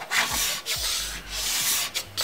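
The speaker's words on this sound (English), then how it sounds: "Just put the scraper on the ski at about 45-degree angle, and you're going to want to scrape the PTX away from tip to tail." A plastic scraper pulls excess PTX base repair material off a ski base from tip to tail, giving close, steady rubbing strokes in a repeating rhythm of about four passes with brief pauses between them.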